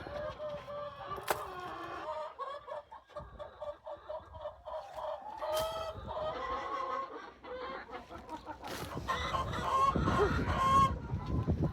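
Chickens cluck and squawk on a family farm among laying hens, several birds calling in overlapping bursts at close range, with scratching and rustling through discarded coop bedding underneath.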